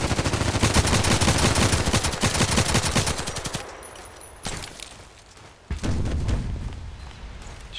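Rapid automatic gunfire in the shooter game Contract Wars, a dense, loud burst lasting several seconds, then a lull with faint clicks before another sharp burst of shots erupts.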